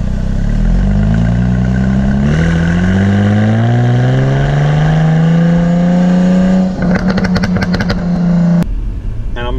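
A 2019 Jaguar F-Type sports car engine revs loud and close, its pitch climbing steadily through a long pull before breaking into crackling pops and cutting out sharply near the end.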